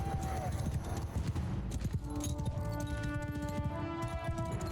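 Horses gallop in a Mount & Blade II: Bannerlord battle with horse archers, a dense rush of hoofbeats with a short neigh and voices speaking over it.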